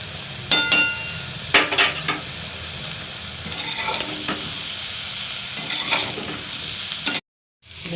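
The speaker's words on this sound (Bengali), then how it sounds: "দেখো এবার সয়াবিন আলু ভাজা হয়ে গেছে, ভাজা।" Soybean chunks and potatoes sizzle steadily in a pan while a spoon stirs and scrapes in bursts, with clinks of metal against the pan, ending in a brief silence.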